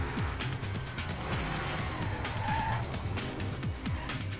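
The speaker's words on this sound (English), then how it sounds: "I am drifting the stuff out of this bike right now, dude." Motorbike drifting in the DriveClub Bikes racing game, a steady engine drone with continuous tire skid and squeal, sustained and close without pause.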